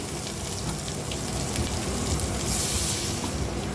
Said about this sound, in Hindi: और इसमें आप डालेंगे पानी।